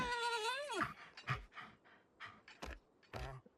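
A dog-like armadillo creature in the video game Ark Extinction whimpers and whines in short begging bursts, a wavering high cry followed by several brief yelps, close and clear with no talk.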